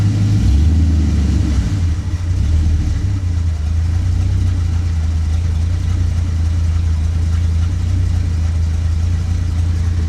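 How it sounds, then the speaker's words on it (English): A Chevy C10 truck engine idles low and lopey, its deep rumble slightly uneven as from a vacuum leak, running continuously at close range with no speech. "It's idling kind of low, like it's got a vacuum leak or something like that."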